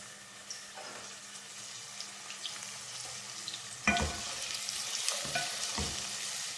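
Chopped onions hit hot oil in a pan for a beef stew and sizzle steadily, with a louder burst of frying and a few stirring scrapes partway through, nobody speaking.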